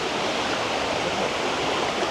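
Cold flowing water at Villa Escudero runs in a steady, broadband rush, close and continuous like a stream or small waterfall, with no voices over it.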